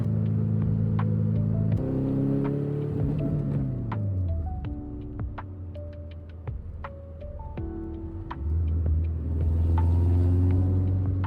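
A VW Beetle with a swapped-in Subaru engine drives along, its low rumbling engine note rising and falling through gear changes with steady throbbing hum and road noise, no talk.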